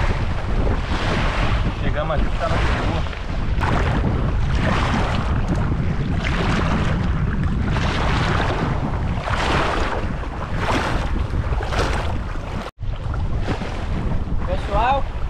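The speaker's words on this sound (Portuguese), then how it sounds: "O vento agora apertou, hein?" Strong wind gusts across an island by the sea, roaring steadily and buffeting the microphone, with surf underneath; people talk over the constant rush.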